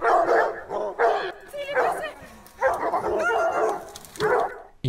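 Hounds bark and yelp in bursts during a stag hunt with hounds, loud and close, with excited repeated barks and whimpers overlapping in a chaotic pack chorus.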